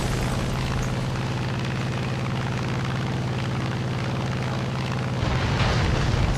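A B-25 bomber in a flight combat video game roars past while bombing a base, a loud continuous engine drone mixed with rumbling blasts, then a heavier boom near the end.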